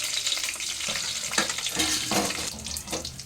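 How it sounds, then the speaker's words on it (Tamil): Black pepper and coriander seeds fry in a little oil for mutton curry, giving a steady close sizzle with spoon stirring and a few sharper scraping strokes. "இந்த மிளகை இதில் போட்டு இந்த மல்லியையும் இதுக்கு கூட சேர்த்து வறுக்கணும்"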